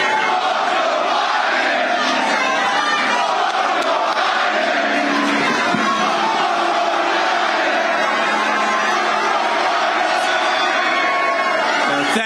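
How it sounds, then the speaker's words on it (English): Crowd at SneakerCon in Philadelphia reacting to a new shoe unveiling, a loud continuous roar of cheering, whooping and shouting voices filling the whole stretch without pause. "take a listen to the crowd's response there"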